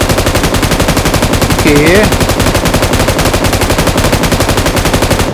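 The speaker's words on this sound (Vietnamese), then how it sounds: "Đúng rồi, cái M249 lỏ thật sự." Sustained rapid automatic fire from an M249 light machine gun in the PUBG Mobile game, a loud unbroken burst lasting throughout, with a voice briefly speaking over it partway through.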